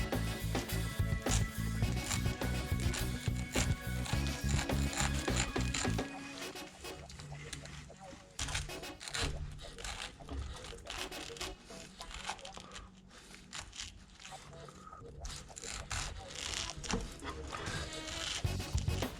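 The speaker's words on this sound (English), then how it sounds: "Use a spoon to take it out and save some juice inside the pineapple hull." A spoon scoops the flesh out of a cut pineapple hull, making wet tearing and crinkling scrapes. The steady irregular scraping runs over background music, which is strongest near the start.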